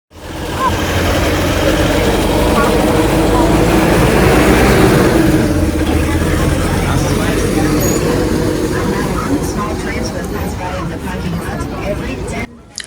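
Steady low engine drone and road rumble inside a vehicle, with voices talking over it throughout.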